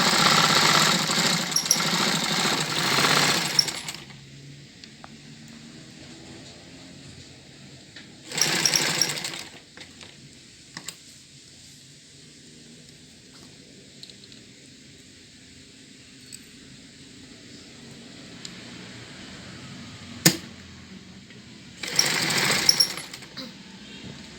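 Sewing machine stitching tetron fabric for a face mask in a dressmaking lesson, heard in loud bursts of whirring at the start, around the eighth second and near the end, with quieter stretches between.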